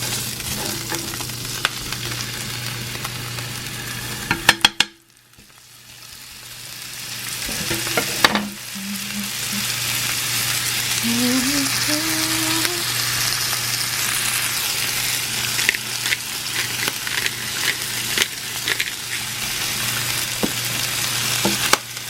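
Tuna steak frying in a pan, a loud close sizzle broken by a sudden drop near the start, then steady crackling hiss with sharp pops and utensil clicks, no talking.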